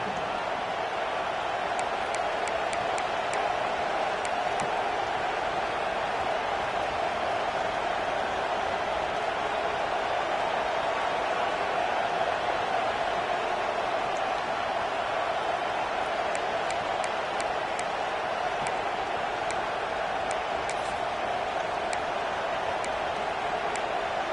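Steady, dense roar of a large stadium crowd at a Michigan football game, continuous and loud throughout with no breaks, sustained cheering and noise at a big moment.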